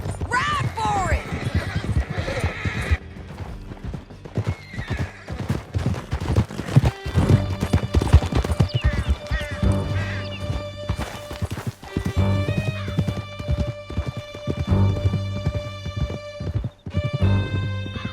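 Horses gallop and whinny in Red Dead Redemption 2, a steady run of hoofbeats with repeated neighs amid a chaotic chase, occasional shots and game music, with voices talking over the action throughout.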